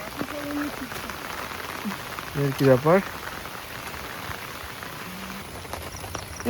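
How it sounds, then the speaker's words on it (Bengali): Heavy monsoon rain falls steadily at a campsite near Kolkata, a constant close patter on surfaces, while people talk briefly over it. "মনসুন ক্যাম্পিং ভারী পড়ছে।"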